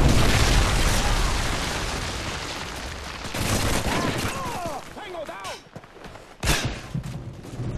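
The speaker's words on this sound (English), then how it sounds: "Predator missile inbound." Predator missile blasts in Modern Warfare 3 multiplayer roar in heavy, booming bursts with crackling gunfire, loud at first then easing, with a further sharp impact near the end and a voice briefly speaking beneath.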